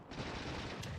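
Artillery in the game Factorio fires on enemy nests, a short rumbling burst of booming shots, muffled and fairly quiet, with nothing else over it.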